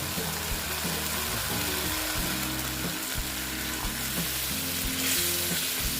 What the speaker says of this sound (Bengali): এখন আমি এখানে গরম জল অ্যাড করে দিচ্ছি